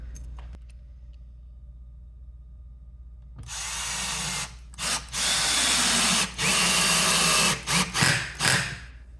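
A power drill drives a lag bolt into a wall stud for a wall mount, whining loudly in several bursts broken by short pauses after a quiet start.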